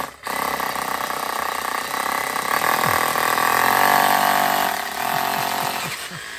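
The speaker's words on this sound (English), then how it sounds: "Now George is drilling a hole." A power drill bores a hole through a plant pot at a farmhouse, a steady high motor whine rising and falling over several seconds, close and loud, with a few faint knocks near the end.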